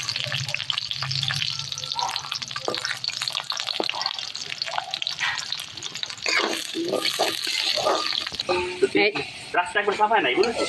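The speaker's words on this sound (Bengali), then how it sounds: "এক একে আমি এভাবে সব সবজি ভেজে নেব" Vegetables such as potato, sweet potato and pointed gourd fry in oil, with a crackling sizzle and frequent clatter of pan and utensils. A voice talks intermittently over the cooking.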